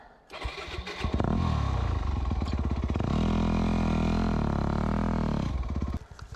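An enduro motorcycle stalled in a rut on a slow, steep hill sputters back to life with clattering cranks, then settles into a loud, steady close-up engine roar that holds for several seconds before cutting off.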